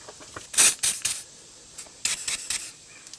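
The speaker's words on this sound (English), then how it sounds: "spray this nut here, that nut right there, with some penetrating oil" Seafoam Deep Creep penetrating oil sprayed onto a rear sway bar link nut on a 2005-2009 Subaru Outback, heard as short, close aerosol hisses in two bursts separated by a pause.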